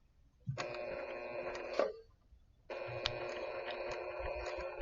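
Sewing machine stitching fabric along a seam guide, running in two steady bursts of close, even mechanical whirring with a short pause between them and no talk.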